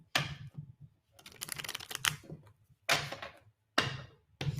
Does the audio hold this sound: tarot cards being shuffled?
yes